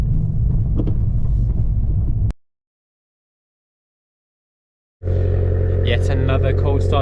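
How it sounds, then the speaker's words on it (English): Abarth car engine cold-starting outdoors in cold weather: a loud, deep idling rumble breaks off into a few seconds of silence, then returns abruptly, loud and close, with a raspy throb. "Cold start. It's in the cold outdoor, so really, really loud"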